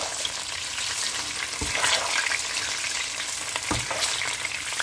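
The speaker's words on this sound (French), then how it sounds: "on laisse cuire notre poisson au petit feu" Fish in ginger sauce cooks gently over low heat in a pan, giving a steady close sizzle with two brief soft knocks partway through.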